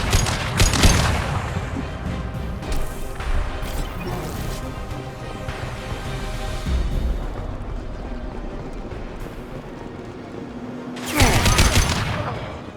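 Concussive shot ability and gunfire in Mass Effect 2 combat: a dense, continuous barrage of shots and impacts, with heavy blasts near the start and a loud burst of firing again near the end.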